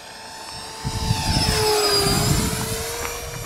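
An H-King SkySword 70mm 6S electric ducted fan model jet sweeps past outdoors with a loud, steady high-pitched whine that rises and falls in pitch as it passes, with wind noise underneath.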